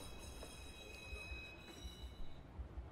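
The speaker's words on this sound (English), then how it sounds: "Let's see if I can board the train and take me somewhere quick." A train in Watch Dogs rumbles past with a steady low roll, a few faint wheel clacks and a thin high squeal, all fairly quiet.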